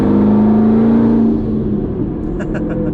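A twin turbo Chevrolet Camaro ZL1 V8 revs loudly with a strong low drone that fades away over a couple of seconds, leaving a quieter rumble and a few faint high clicks.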